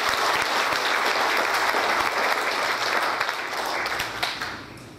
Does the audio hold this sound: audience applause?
yes